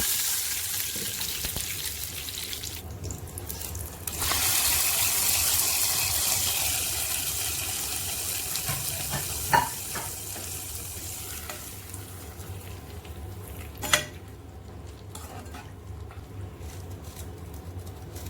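A sizzling tempering of mustard seeds, dried red chilies and curry leaves is poured into a drumstick curry. A steady frying hiss runs throughout, swelling after a few seconds, with a couple of sharp clinks, nearby and moderate.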